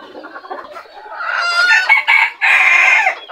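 A frizzle rooster crows loudly and close by in drawn-out calls, while mottled cochin-frizzle bantam hens cluck softly before and between the crows.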